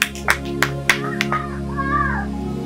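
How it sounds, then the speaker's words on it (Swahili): A church congregation clapping for Jesus during a sermon, a few sharp separate claps near the start, then a voice trailing off over a low hum. "Hebu mpigie Bwana Yesu makofi."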